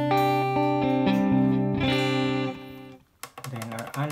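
Guitar notes through the digital delay preset of a Digitech RP55 multi-effects processor ring out loud with sustained, layered repeats for about three seconds, then someone talks briefly.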